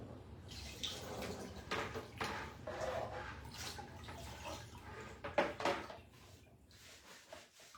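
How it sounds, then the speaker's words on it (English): Running water rinses red paint off a marbling board, a soft, steady splashing with a few louder splatters, fairly quiet and with no voices. "Rinse it off a little because it still has red paint on it."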